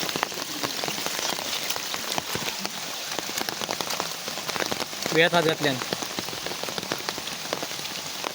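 Steady heavy rain patters and hisses on surfaces throughout, outdoors at night by a stream, with a brief spoken phrase rising over the downpour partway through.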